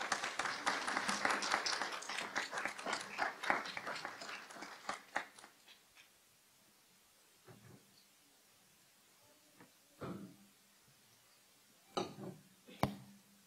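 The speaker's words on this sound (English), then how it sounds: "How about another big round of applause for our excellent panelists?" Applause for panelists at a forest fuels policy forum: a quick round of clapping from a modest audience, fading out after a few seconds, followed by sparse scattered knocks and handling sounds in a quiet room.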